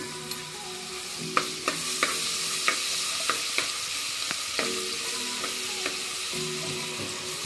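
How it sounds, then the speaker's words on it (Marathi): Garlic and ginger frying in hot oil with masala in a pan for a catla fish curry, a steady sizzle broken by repeated sharp clicks and scrapes of a spoon stirring, close and clear with no talk. "आता लसूण टाकून घेऊया, आलं लसूण"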